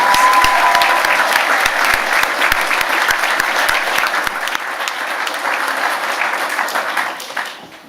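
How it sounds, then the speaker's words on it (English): Audience at a senior prizegiving ceremony at a school applauding a maths award, a full sustained wash of many hands clapping, loud and close with a few sharper individual claps early on, fading out at the end. "I think we can put our hands together again with another round of applause."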